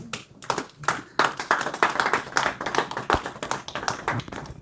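A church congregation claps together in acclamation of the Lord, a dense run of hand claps that swells and holds steady throughout, with some voices mixed into the applause.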